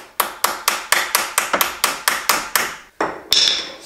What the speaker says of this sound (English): a good way of doing it is to put it on and use a hammer,